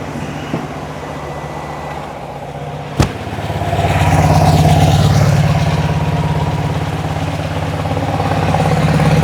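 The dual-carb engine of a 1972 VW Beetle idles steadily nearby, then its note swells and holds at a fuller, louder rumble after a sharp click, running unbroken throughout.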